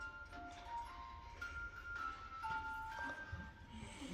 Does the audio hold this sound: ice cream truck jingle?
yes